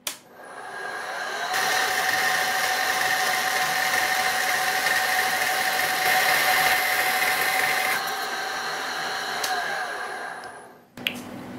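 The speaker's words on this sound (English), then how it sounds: "I'm sawing off the side of the part so I don't have to mill as much material away." A band saw whines steadily as it cuts the side off a metal part, a sustained high-pitched tone with a grinding edge for about nine seconds before stopping abruptly.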